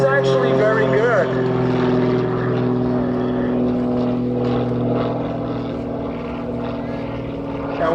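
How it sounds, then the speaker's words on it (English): A WW2 Luftwaffe advanced trainer aircraft at an air museum's wartime weekend in Reading, Pennsylvania, runs its propeller engine in a steady, droning hum with strong low tones, staying loud and close throughout. "this was the advanced trainer that the Luftwaffe used for its pilots back in World War II"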